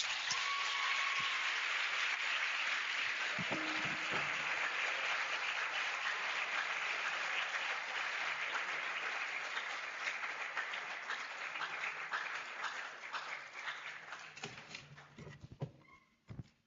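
Sustained applause from a graduation audience at the African Science Academy 2025 ceremony, a dense, steady wash of many clapping hands that holds for a long stretch before thinning and fading out near the end.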